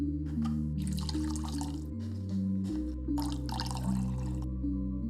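Acetone pours from a bottle into a cup in two short trickling bursts with a brief pause between them, set against a steady low tonal hum.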